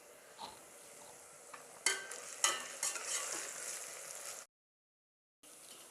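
Onions sautéing golden in a pan for beef biryani, a quiet sizzle punctuated by a few sharper stirring scrapes, close by, then a sudden cut to silence before the sizzle briefly resumes.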